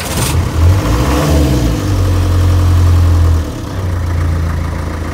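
A diesel engine with glow plugs fires up from a warm start, revs briefly, then settles into a steady low idle, loud and close with no voices.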